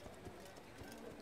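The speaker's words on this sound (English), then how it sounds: "Don't you hear and see a freaking horse coming at you?" Horse galloping in Assassin's Creed, a rapid run of hoofbeats under dense game ambience with crowd noise.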